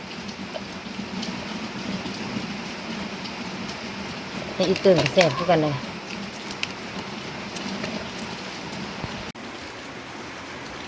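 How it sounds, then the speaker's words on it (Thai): Rain falls as a steady, soft hiss throughout, while a person speaks briefly over it midway. "ฝนกระตกแล้วพี่น้องเอ้ย"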